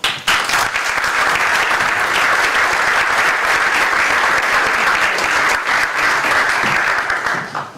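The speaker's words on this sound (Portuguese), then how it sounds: "Um aplauso." Loud, sustained applause from an audience at a candidacy information session in Torres Vedras, dense clapping of many hands holding steady for several seconds before tapering off.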